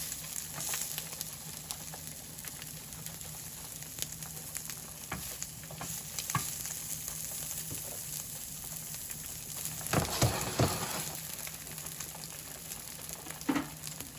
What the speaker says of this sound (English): I'm going to let them get a nice sear on both sides.